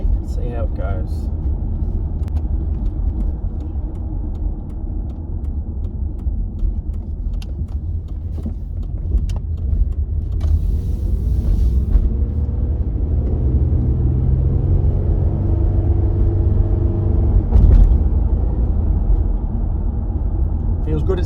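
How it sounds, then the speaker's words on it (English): A Holden VZ Adventra with a newly replaced tail shaft centre bearing cruises on the highway, its steady low engine and road rumble heard from inside the cabin, with someone talking over it and a few brief clicks. "Get out on the highway and see how it goes."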